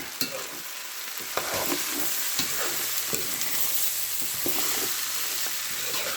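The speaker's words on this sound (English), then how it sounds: "you're going to stir it until everything blends together" Carrots and onion stirred together in a cooking pot for a Palau of chicken, rice, lentils and black beans, giving close scraping stirs over a steady soft sizzle, with no talking.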